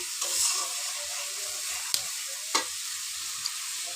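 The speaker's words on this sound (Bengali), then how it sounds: "এবার মশলাগুলো ভালো করে বেজে নেব যতক্ষণ পর্যন্ত মশলাগুলো তেল ছেড়ে না দিয়েছে" Ground spices frying in oil for a tomato fish curry give a steady, soft sizzle, with a few sharp clicks and scrapes of a stirring spoon.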